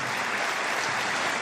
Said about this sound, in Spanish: El aplauso es para todos los que han sembrado y los que seguirán sembrando